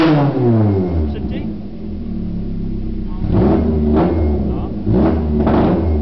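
Toyota 4AGE 20V blacktop engine in an AE92 revving up in repeated bursts with a hiccuping, uneven note, close and loud, with people talking over it.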